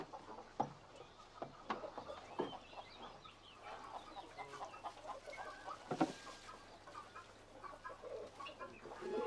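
Hens cluck in a farmyard, their short, scattered calls rising over a low background murmur, with a few louder clucks standing out close by among quieter ones.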